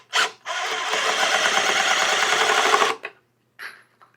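Deckmate deck screws driven into wood at an angle with a power driver during bridge building: a short burst, then a steady whirring drive of about two and a half seconds, followed by brief faint clicks.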